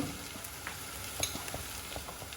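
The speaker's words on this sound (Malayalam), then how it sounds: "എന്നിട്ട് നന്നായിട്ട് ഈ മസാല ഒന്ന് മൂപ്പിച്ചിട്ട് എടുക്കും കേട്ടോ" Ground spices, including turmeric and black pepper powder, frying in oil with a soft, even sizzle and faint scraping of stirring, close and steady, with no voices.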